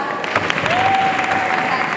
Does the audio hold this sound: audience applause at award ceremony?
yes